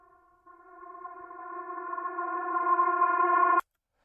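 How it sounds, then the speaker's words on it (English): A rising synth riser effect in an Afrobeats/Amapiano beat built in Ableton Live, swelling steadily louder with stacked harmonic tones over about three seconds before cutting off abruptly, heard alone. "I have this riser"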